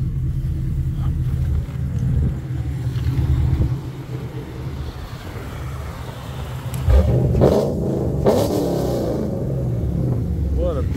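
A 600hp 2011 Chevy Camaro SS engine rumbles at idle and then revs hard partway through, loud and close, while someone talks over it.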